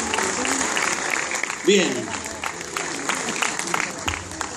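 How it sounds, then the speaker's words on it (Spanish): Audience applause at a Star Wars fan convention in Argentina 2015, a crowd clapping steadily under a voice on a PA, with a brief louder swell midway. "de vuelta el aplauso, por favor"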